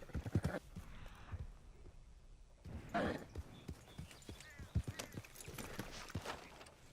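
Horse hooves clip-clop in a video game, a run of sharp, fairly close hoofbeats in an uneven rhythm over a low background ambience, with a brief louder scuffle partway through.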